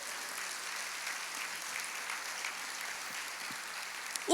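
A church congregation applauding during a sermon, heard as a soft, even, slightly distant patter of clapping that holds steady throughout, with a brief louder sound right at the close.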